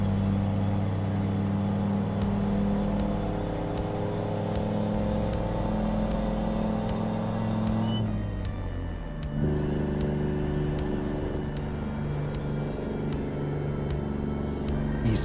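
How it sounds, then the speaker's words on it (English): A 1970s Peterbilt 359 truck with a swapped-in CAT 3408 V8 idles loudly, a deep, steady, rumbling drone with layered tones that dips briefly and then shifts pitch slightly, as though the revs change partway through. "This truck is so loud comparative to what it was before we did the engine swap."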